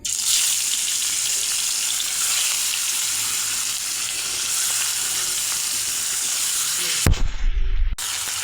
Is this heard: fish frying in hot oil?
yes